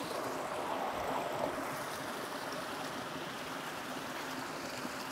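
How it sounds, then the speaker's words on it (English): Flowing spring water stream heard outdoors: a soft, continuous rushing trickle with a steady watery hiss, faint and even throughout with no voices. "we're trying to find the spring, because we can't find it, but we heard it"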